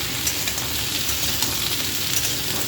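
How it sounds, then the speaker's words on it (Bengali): Diced potatoes fry in a pan for potol aloo posto, giving a steady, close, dense sizzle that holds evenly throughout with no voices. "দিয়ে দেবো ডুমো করে কেটে রাখা আলুটাকে ভালো করে নাড়াচাড়া করে ভেজে নেব"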